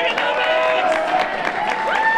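A wrestling crowd at a Metro Pro Wrestling show cheers and claps behind J.J. Garrett, a steady roar of voices with whistles rising near the end.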